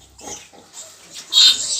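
Piglets nursing on a sow in a farm pen, giving a few soft grunts and squeals that grow into a louder squealing burst near the end, with no talk.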